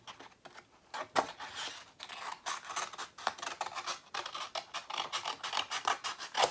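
Scissors snip through paper during paper crafting of a Graphic 45 tag album, a quick series of crisp close cuts and rasping slides, with no talking.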